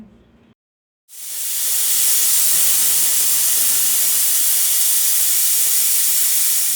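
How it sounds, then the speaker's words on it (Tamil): After a brief silence, a loud, steady hiss of steam bursts out of a pressure cooker cooking mutton gravy and continues without a break. "ஒரு கொதி வந்ததும் குக்கரை க்ளோஸ் பண்ணி 4-5 விசிலுக்கு வேக விட்டுக்கோங்க"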